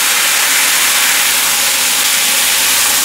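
A burger patty for a mushroom Swiss burger sears under a press on a hot griddle, a loud, steady, close sizzling hiss that holds constant throughout.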